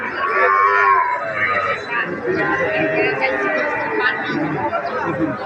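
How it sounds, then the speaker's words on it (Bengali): Calves of various breeds, including Sahiwal, mooing at the Ambari cattle market in Dinajpur, several close moos over a background of crowd chatter, with people talking nearby. "গাভীর বাছুরগুলো।"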